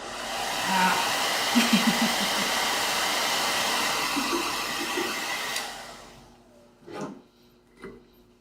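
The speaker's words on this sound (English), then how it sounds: "Short second on the blow dryer." A blow dryer runs steadily for about six seconds while drying stencil paint on a DIY phone stand, then cuts off, leaving a couple of faint knocks in the quiet.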